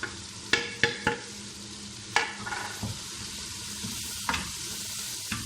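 Tomatoes and spices fry in a pan for a red kidney bean dish: a steady soft sizzle, broken by several sharp clacks and scrapes of a spoon stirring against the pan, close and alone with no talking.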